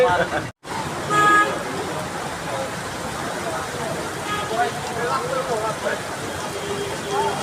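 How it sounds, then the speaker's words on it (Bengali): Steady heavy rain hisses on Bailey Road in Dhaka, with knee-deep water on the street, passing traffic and a brief car horn near the start. "রাজধানীর বেলি রোডে প্রচুর বৃষ্টি হচ্ছে, হাঁটু পানি হয়ে গেছে।"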